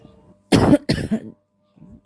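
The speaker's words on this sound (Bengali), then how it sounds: "কথা বলতে বলতে কাশি হচ্ছে" Two harsh, close coughs sound in quick succession from a person with a heavy cough, followed by a faint throat noise after a short pause.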